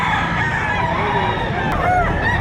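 Chickens and roosters at the Padre Garcia livestock auction market in Batangas, with a dense, steady crowd of overlapping crowing and clucking amid constant market noise, close and fairly loud throughout.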